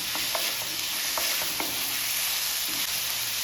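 Capsicum and onion sizzle and fry in a pan for a village-style Tamil capsicum gravy, with steady close crackling broken by scraping stirring strokes; no voices.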